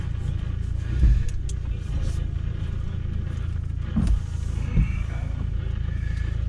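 A new truck backing up at a rail yard where new cars are loaded gives a low, steady engine rumble with a few brief thumps and bumps along the way. No one speaks.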